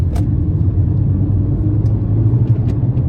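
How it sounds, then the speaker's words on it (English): Volkswagen Lupo accelerating hard at full throttle, a loud, continuous, droning engine rumble heard from inside the car. "let's nail that throttle"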